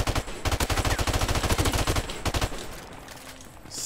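Rapid bursts of automatic gunfire from a gun in Call of Duty: Modern Warfare ring out loud and close in a fast rhythmic stream for about two seconds, followed by a short second burst, then quieter game ambience.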